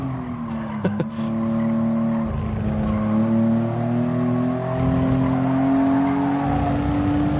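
A car in a racing video game powers through a turn, its engine note rising and falling in steady tonal sweeps with a brief tyre chirp early on, loud and continuous throughout.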